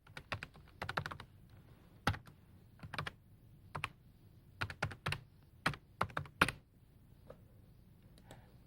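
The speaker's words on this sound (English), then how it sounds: "This is where you type in your email address." Someone types an email address on a computer keyboard, giving close, crisp keystrokes in short irregular bursts separated by brief pauses, with no talking.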